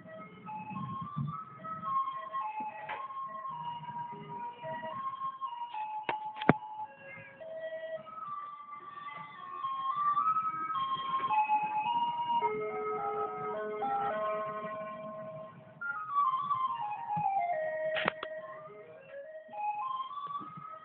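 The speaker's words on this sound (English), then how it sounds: "I wonder if they have that ice cream truck like that in other cities." An ice cream truck plays its melodic jingle continuously, a bright looping tune heard clearly and fairly near, with no talking over it.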